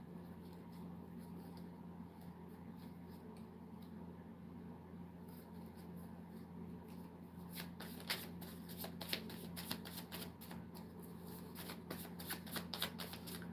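Tarot cards being shuffled close by during a reading, starting as soft quiet riffling and building into quicker, crisper bursts of card slaps in the latter half, over a low steady room hum.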